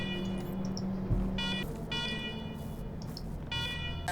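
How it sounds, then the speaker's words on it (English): A blaring alarm in the video game Wasteland 3 sounds in repeated pulsing electronic bursts with short gaps between them, loud and harsh, with no talking. "Noisy alarms and all."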